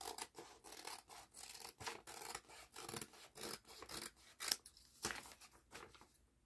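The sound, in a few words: cutting laminated paper napkin with scissors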